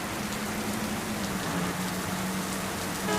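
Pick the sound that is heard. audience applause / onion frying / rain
rain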